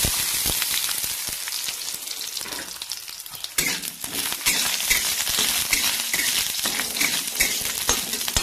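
Pieces of fish sizzle and crackle steadily in hot oil in a pan, a dense close frying hiss that continues throughout, with occasional stirring.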